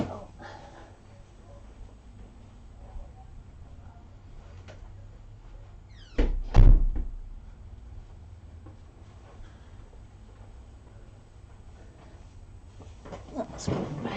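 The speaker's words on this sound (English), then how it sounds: "Let's shut this middle door a bit." A middle door in an ink and art supply shop swings shut with one sharp thud midway, under quiet room tone and faint chatter.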